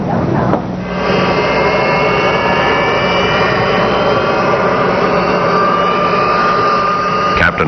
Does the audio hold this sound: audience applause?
no